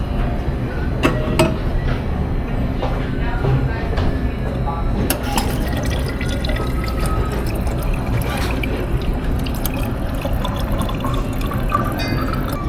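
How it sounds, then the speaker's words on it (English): Water streams into a bottle at a refill station aboard the cruise ship Pride of America, with clinks and drips over a steady trickle under nearby chatter and background noise. "I'm gonna try this water refill situation. Tap my room card, tap here."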